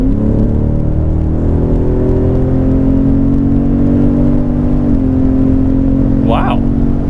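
A 2017 Ford Raptor, a 5,600-pound truck in sport mode, pulls hard at full throttle from a high-speed roll with a loud, close, steady engine drone that climbs in pitch, shifts once, then keeps rising, with a brief voice near the end.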